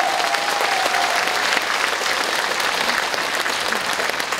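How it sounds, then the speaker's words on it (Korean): A large crowd in a big concert hall applauds to welcome a singer onstage, a continuous, loud, even roar of clapping throughout. "여러분 큰 박수로 환영해 주시기 바랍니다."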